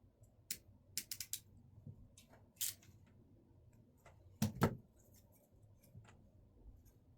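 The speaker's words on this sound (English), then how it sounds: "Squeeze the ratcheting crimping tool to crimp the contact." A ratcheting crimping tool is squeezed to crimp a contact onto a connector wire, producing sharp, close clicks in quick clusters with pauses between them, in an otherwise quiet room.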